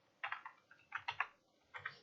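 Soft keystrokes on a computer keyboard come in short bursts of quick clicks separated by brief pauses, close and quiet, with no voices.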